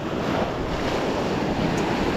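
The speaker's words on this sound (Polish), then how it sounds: "a tutaj duże fale" Big sea waves roar in a constant, loud wash of surf, mixed with gusty wind buffeting the microphone.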